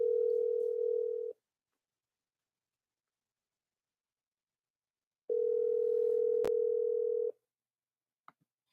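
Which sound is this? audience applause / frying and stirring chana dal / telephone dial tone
telephone dial tone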